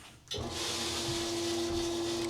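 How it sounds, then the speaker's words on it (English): A household sump pump starts abruptly and keeps running with a steady motor hum and a strong whining tone, close and continuous. "that's my sump pump again"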